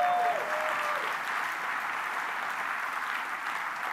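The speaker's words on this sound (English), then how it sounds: "so I think that's your cue to clap." A large keynote audience at a Microsoft Build 2016 tech conference breaks into sustained, dense applause, a steady even roar of clapping that carries evenly throughout.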